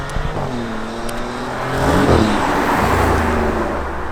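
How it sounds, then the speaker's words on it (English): A 2025 Maserati GranCabrio Trofeo is driven in Corsa mode. Its engine is heard from close by, pulling hard and sweeping upward, with a whirring rise and a loud, sustained roar as it accelerates. "driving the brand new 2025 Maserati GranCabrio"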